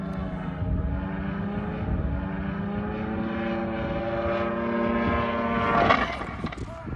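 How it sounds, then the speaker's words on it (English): A Seawind 3000 amphibious airplane takes off from a lake, its propeller engine droning steadily with a rising harmonic whine that swells to a loud peak near the end, the roar continuous and fairly close. "A Seawind 3000 amphibious airplane was taking off from Lake Sammamish."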